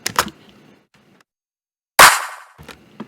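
Dry, unprocessed rhythm clap drum samples from an electronic track: a couple of softer hits at the start, then one loud sharp clap with a decaying tail, followed by quieter trailing hits.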